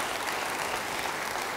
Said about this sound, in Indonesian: Semua katakan, beri tepuk tangan yang baik bagi dia.